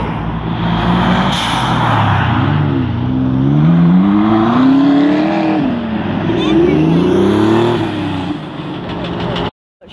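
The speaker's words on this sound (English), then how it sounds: "the Mustangs have started" Ford Mustang engines starting and revving at a car meet in Sandbanks, loud, close rumbling with rising and falling revs, as people talk over the noise.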